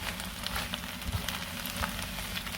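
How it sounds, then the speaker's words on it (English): Steady sizzling hiss of chicken pelau frying in a pan with scallions, continuous and close, with faint crackles scattered through. "you hear that sizzling up nicely, right?"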